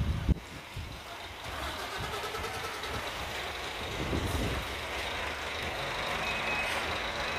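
A pink Scania truck manoeuvres at low speed, its engine rumbling steadily while a repetitive reversing beep sounds alongside, with a sharp hiss of air brakes near the start.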